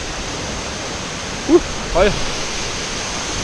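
A roaring waterfall pours in a steady, loud, broadband rush of falling water, with someone briefly speaking a single word over it.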